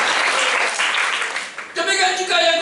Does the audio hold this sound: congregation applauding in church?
yes